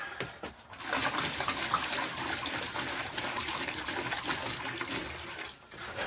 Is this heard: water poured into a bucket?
yes